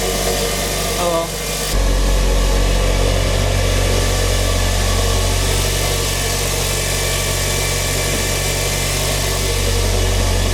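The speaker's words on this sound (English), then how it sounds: "Still got that weird intake noise." A car engine idles with an odd intake noise, a steady close rumbling hum with a faint whistling edge, continuing evenly after a brief change near the start.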